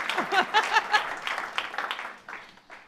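An audience claps for a speaker at a pitch-style event, a short burst of hand clapping that starts strong and thins out over a few seconds, with some murmured voices mixed in.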